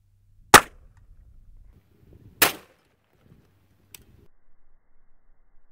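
Two sharp, loud gunshots from a 300 Blackout pistol fired outdoors about two seconds apart, each with a quick decay, followed by a fainter click and quiet handling noise.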